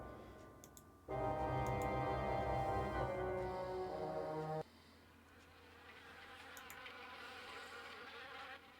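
Bees or wasps buzz steadily and loudly throughout in the video game Harvester, a dense insect drone that changes character partway through, with faint ticking in the background.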